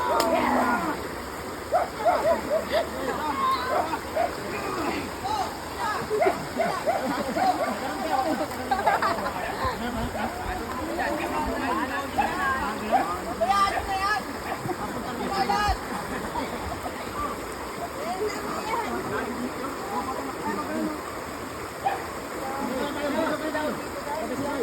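Water of a stream rushes and splashes steadily throughout, a constant near wash with people talking over it.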